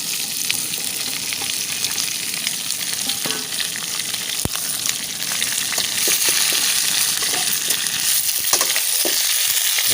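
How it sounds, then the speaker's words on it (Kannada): Cut long beans sizzling in hot oil with urad dal for a traditional palya, a loud steady fry with stirring scrapes throughout and no talk. "ಇವಾಗ ಕಟ್ ಮಾಡಿಟ್ಟ ಅಲಸಂದೆಯನ್ನು ಇದಕ್ಕೆ ಹಾಕಿ ಅಲ್ವಾ."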